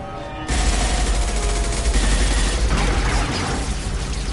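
Dense, continuous gunfire in the Mass Effect 2 video game, a loud sustained barrage of overlapping shots that kicks in abruptly after a brief quiet start and holds without pause.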